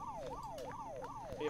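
A wailing police siren in the video game Unturned sweeps up and down in repeated cycles, steady and moderately loud against a faint low rumble, with no voices.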